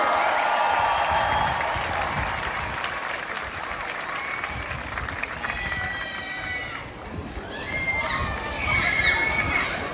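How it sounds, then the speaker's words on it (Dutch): Large crowd at a Team NL homecoming celebration applauding the Golden Relay men, dense sustained clapping with cheering and shouts layered over it, loud and continuous, with whistles and voices rising near the end. "En geef ze nog een geweldig applaus, jongens."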